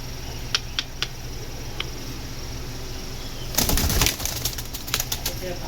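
Aluminium-breed pigeons flap their wings in a short, close burst midway through, with a few faint clicks and light rustling around it.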